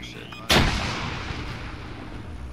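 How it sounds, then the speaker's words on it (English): Gunfire in the Arma 3 video game: a single sharp, loud shot or blast cracks near the half-second mark, followed by a long echoing rumble that fades slowly under steady background noise. "We got shots incoming from the northwest."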